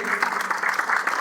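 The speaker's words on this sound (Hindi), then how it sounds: "जोरदार तालियों से स्वागत करेंगे।" A crowd at a protest sit-in site claps briefly and steadily, a dense patter of many hands applauding together.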